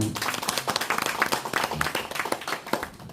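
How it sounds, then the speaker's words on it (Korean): An audience at an indoor policy forum gives a short burst of lively, uneven applause, many hands clapping close by at moderate volume with no speech over it. "한 분 한 분 소개 시마다 큰 박수를 부탁드리겠습니다."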